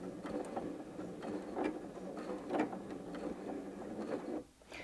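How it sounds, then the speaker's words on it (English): A Janome M100 QDC sewing machine runs a short burst of securing stitches in place, giving a steady close mechanical whir with faint rhythmic ticking before it stops near the end. "when I sew now, the machine will sew a few stitches on the spot and then stop"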